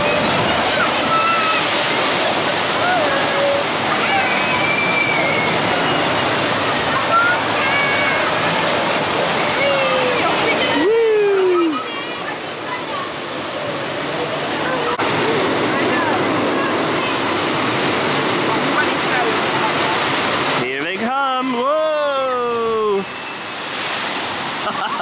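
Rushing water from a theme park water ride at Flambards, a steady broad wash of splashing and flowing water outdoors, continuous and fairly loud, with people talking and calling out over it at times.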